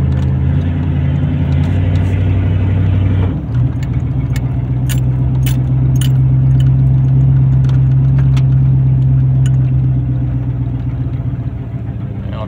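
A 1994 Chevy truck with a swapped-in 454 engine runs with a loud, close, deep rumble that holds steady throughout, with a brief shift in tone early on.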